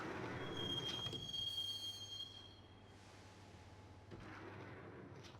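A train ride in the Max Payne video game: steady rumbling rail noise with a high thin wheel squeal early on, the rumble easing then swelling again, no voices.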